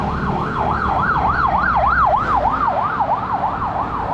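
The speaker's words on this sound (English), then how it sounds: "San Antonio ambulance rolling strong southbound" An ambulance in San Antonio, Subic, heading southbound, wails past on the road with a loud, rapidly rising and falling electronic siren that cycles steadily, over low traffic rumble, with no talking.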